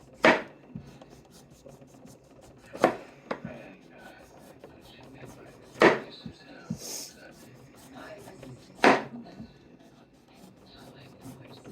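Raw potatoes being sliced thinly with a knife for scalloped potatoes: four distinct crisp cuts spaced a few seconds apart, with faint scraping and handling sounds between them in a quiet kitchen.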